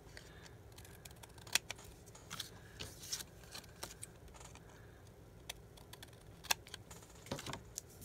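Scissors snipping a tab off a stamped paper label at a desk, quiet close crisp cuts in a few scattered bursts with small handling noises between.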